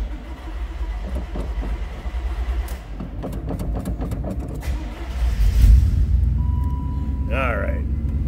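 A 1992 Chevrolet K1500 4x4 pickup nearby, first clicks and cranking, then the engine catches with a loud low surge and settles into a steady rumbling idle, with a person talking.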